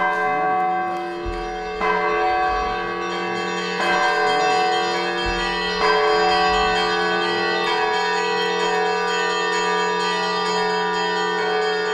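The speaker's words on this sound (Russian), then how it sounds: "большой царь колокол, который у нас теперь есть" A large bell rings out several slow, resonant strokes, each deep clang leaving a long humming decay that overlaps the next.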